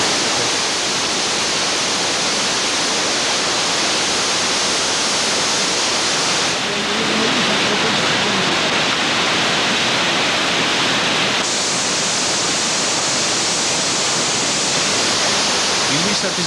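Floodwater rushes steadily after a downpour in the Greek towns of Megara, Megalo Pefko and Nea Peramos, a loud, continuous, hissing roar with no pauses throughout.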